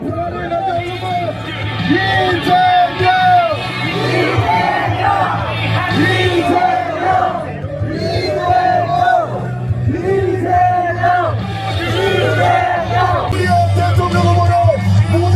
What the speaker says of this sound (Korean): 여러분 다시 한번 외쳐보겠습니다.